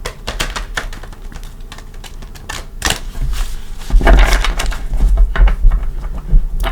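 Rapid riffling and snapping of cards being shuffled, a few quick bursts in a row, close and fairly loud with no talking.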